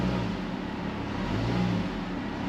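A car engine revving up while the RPM climbs, hooked up to a pocket scan tool in a mechanic setting; a steady, fairly quiet mid-range engine drone with slight rises and dips in pitch, no talking.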